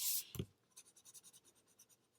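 A 6B pencil pressed hard onto paper for shading begins with a sharp scrape and thump, then settles into a quiet, close run of rhythmic back-and-forth scratching strokes, about a dozen evenly spaced.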